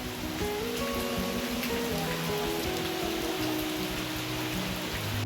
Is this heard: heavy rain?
yes